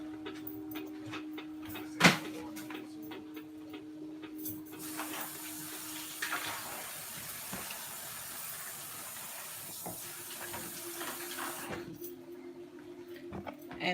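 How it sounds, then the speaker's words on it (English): Food rinsed under a running kitchen tap while breakfast is made, a steady hiss of water that stops and starts again, with a sharp knock near the start. "So let me rinse this here off."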